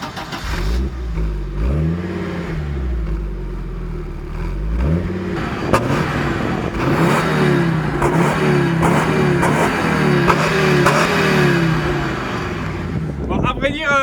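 A turbocharged Audi S2 revs repeatedly from the exhaust, deep rising and falling engine swells close by, with someone talking over the revs.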